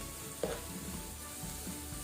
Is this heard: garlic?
yes